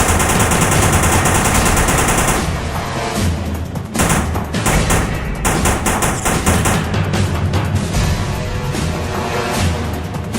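Machine gun fire from the video game This is the Police: loud, dense automatic bursts roar continuously, with brief breaks and booming impacts mixed in.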